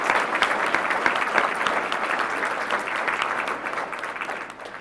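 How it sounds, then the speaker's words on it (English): Audience applause at a law alumni association dinner, a full, sustained round of clapping from a large room that holds steady and then tapers off at the end. "And I would ask that we give them"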